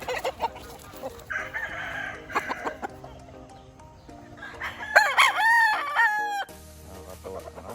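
Bulik gamefowl roosters on a gamefarm cluck and scratch nearby, then one rooster lets out a loud, clear crow midway with more clucking around it; no one speaks.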